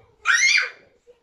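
A young child who does not yet talk lets out one loud, high scream at home, rising sharply and fading after about half a second, followed by a faint brief sound.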